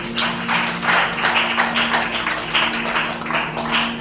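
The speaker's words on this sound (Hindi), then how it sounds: "ताली बजाइए।" An audience applauding during a Christian church sermon, a moderately loud burst of claps in uneven waves over a faint steady hum, with no talking.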